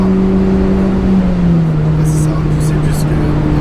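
A budget sports car engine hums steadily nearby, its pitch sliding down as it settles, while people talk over it.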